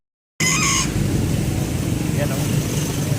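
Native chickens cluck amid a noisy outdoor bustle, with a rooster-like crow near the start over steady background chatter.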